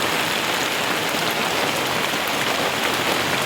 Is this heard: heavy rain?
yes